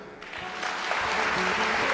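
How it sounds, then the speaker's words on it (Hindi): A crowd of Indian community members at a Jagannath katha in Adelaide breaks into applause that swells quickly into a dense, loud, continuous roar of clapping. "अपने लिए ताली बजाओ"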